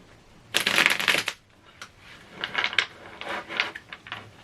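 A tarot deck shuffled close by: one long loud riffle, then a series of softer card slides and taps.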